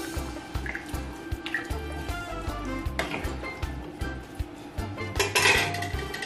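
Soaked garri is stirred into Delta Owoh soup in a pot, with a steady run of close metal spoon scrapes and clinks against the pot amid wet, dripping sounds.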